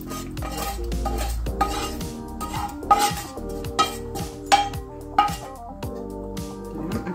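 A utensil stirs potatoes and a prepared dressing in an oiled frying pan, producing repeated metallic scrapes and clinks at an uneven rhythm over a faint sizzle, close and alone.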